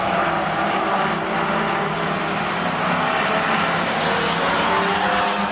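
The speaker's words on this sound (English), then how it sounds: "your race leader coming past you now is Mark Hogan in 72" Race cars at Rockhampton Speedway during a Fender Benders race, a loud continuous engine roar at close range with no pause, with no voices heard.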